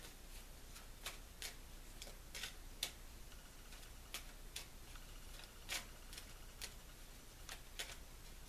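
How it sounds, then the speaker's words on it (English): Faint, close tarot cards being shuffled in a quiet room, soft riffles and irregular light ticks and flicks spread through the whole stretch, with no voice. "shuffling our cards for the theme."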